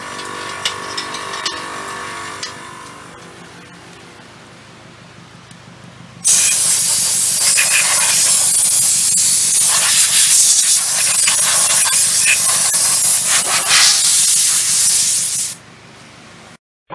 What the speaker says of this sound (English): I'm just about to dry her. I'm finally going to put that hose to use.